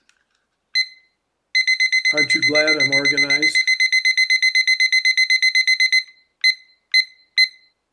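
A kitchen-style timer alarm beeps in rapid, steady electronic pulses: one short beep, then a long continuous run of beeps, then three separate beeps after a pause; someone speaks briefly over the ringing.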